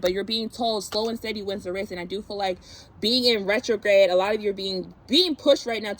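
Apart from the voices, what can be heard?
No everyday noise stands out behind the speech.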